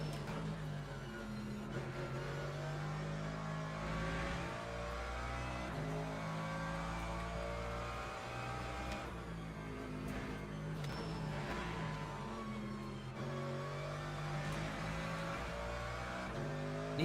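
A Mercedes GT3 race car engine drones and revs continuously in the Le Mans Ultimate racing game at Imola, with engine pitch rising and falling through gear changes and corners, steady and fairly quiet throughout.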